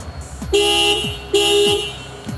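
Two short, loud car horn beeps from a 2011 Toyota Fortuner 3.0V, triggered by the remote key, about a second apart, close by, with faint engine noise between them.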